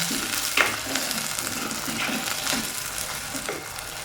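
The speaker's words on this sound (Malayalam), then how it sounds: "ഉള്ളിയും പച്ചമുളകൊക്കെ വഴന്ന് വന്നിട്ടുണ്ട്" Small onions and green chillies sauté in a pan for a kingfish curry, making a steady close sizzle with a few light scrapes and clinks of stirring.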